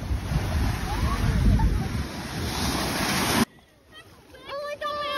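Ocean surf at Bondi Beach rolls in as a loud, continuous wash buffeted by wind noise, then cuts off abruptly to near quiet where a voice is briefly heard.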